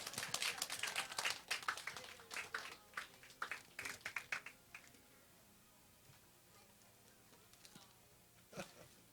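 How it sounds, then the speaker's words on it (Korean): Scattered, fairly faint clapping from children in a church, a few irregular claps over several seconds that thin out, then a lone clap near the end in a quiet room. "우리 아이들 박수 해주세요."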